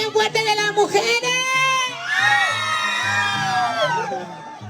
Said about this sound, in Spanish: El grito bien fuerte de las mujeres.